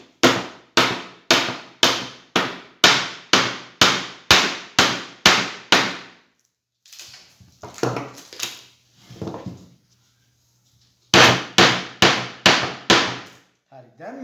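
A hammer fixes screen-printing mesh to a frame with two runs of loud, evenly spaced blows, about two per second. Between the runs is a pause filled with softer handling and rustling.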